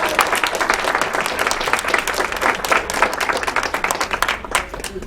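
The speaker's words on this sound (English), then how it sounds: "Could I have a round of applause again?" A round of applause from the audience at a scholars' roundtable gathering: dense, continuous clapping from many hands, loud and sustained for the whole stretch.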